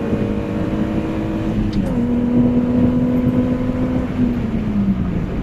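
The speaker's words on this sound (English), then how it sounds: "this is the only time you can actually hear my motor and what it is made of" A car engine running with its catalytic converter removed, giving a steady loud drone with a rising, droning pitch as it accelerates, close by and alone.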